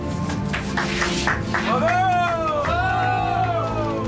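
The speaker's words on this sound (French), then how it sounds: "c'est dès qu'on arrive en chapelle, on applaudit, bravo les Vikings" Viking show performers at Puy du Fou clapping and cheering as they file into the chapel after the performance: busy scattered applause with rising whoops and shouts over loud crowd chatter.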